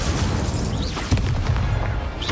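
An Incendio fire spell erupts in the video game Hogwarts Legacy, a loud booming burst with crackling whooshes amid ongoing combat effects.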